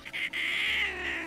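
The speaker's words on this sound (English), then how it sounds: "the other cat wants attention" A house cat lets out a drawn-out, nasal meow lasting over a second, moderately close and fairly quiet, preceded by a brief clipped meow, with no talking.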